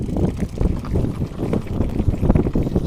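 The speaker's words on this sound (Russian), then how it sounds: "Здесь прямо сильный ветер." Strong wind roaring and buffeting against the microphone, a heavy low-pitched rumble that surges and dips continuously without pause.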